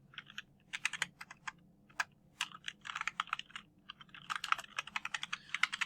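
Fingers tap quickly on a computer keyboard in uneven bursts of crisp clicks, close and quiet, with short pauses between runs of keystrokes.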